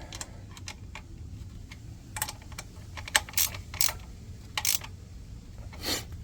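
A ratchet tightening bolts on a pool booster pump housing, giving quick clicking bursts and a few louder sharp clicks spread irregularly over a quiet background hum.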